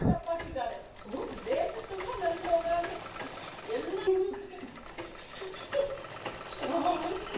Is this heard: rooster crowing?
no